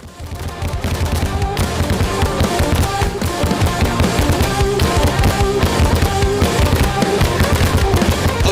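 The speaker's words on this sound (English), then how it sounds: "this is just some Americans firing some guns" Guns fire in time with a band, a dense, continuous stream of loud, overlapping bangs and crackles that runs without pause for several seconds against the music.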